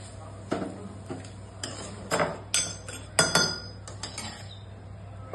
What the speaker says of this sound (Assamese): হৈ গ'ল ভাজা জুই বন্ধ কৰি এতিয়া খুন্দনা খুন্দিম